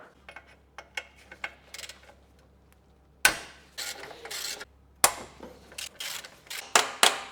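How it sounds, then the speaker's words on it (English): A ratchet clicks while undoing EGR bolts on a BMW E92 engine during manifold removal, in short bursts of rapid ticking with louder metallic clanks and pauses, close and with no talking. "Now I will undo the bolts for the EGR."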